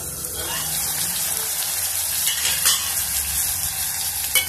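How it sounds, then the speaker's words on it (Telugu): Ingredients for anapaginjala pulusu sautéing in hot oil while being stirred: a dense, hissing sizzle with occasional scrapes, close and steady, no voices. "కొద్దిసేపు ఆయిల్లో మగ్గించుకున్నాము."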